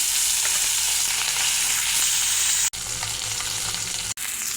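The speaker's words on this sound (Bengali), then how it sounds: "হলুদ লবণ মাখা মাছগুলো ভেজে নেব।" Fish coated in turmeric and salt frying in hot oil in a wok, a loud continuous crackling sizzle heard close up, broken by two brief cuts.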